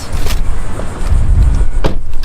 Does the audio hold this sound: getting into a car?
yes